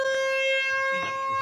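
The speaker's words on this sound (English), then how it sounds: "He actually rigged up an automatic air horn." A loud, steady tonal horn blares continuously, close and piercing, with a few faint rustling sounds underneath.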